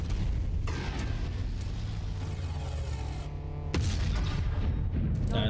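Light rifles fire in Mechwarrior 5 Mercenaries, deep booming blasts over a heavy rumbling battle bed, with a loud burst partway through, close and continuous.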